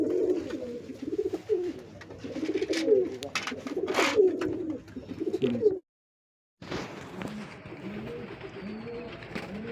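Tournament racing pigeons coo in repeated throaty rolling phrases, several birds close and fairly loud, with a short total silence partway through before the cooing resumes.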